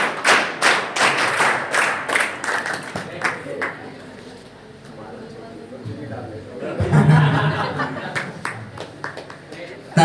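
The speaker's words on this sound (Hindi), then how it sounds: "तालियां" An audience claps at a college event at Jharkhand College, Dumri: a burst of dense, lively applause that fades out, with voices and chatter continuing underneath and afterward.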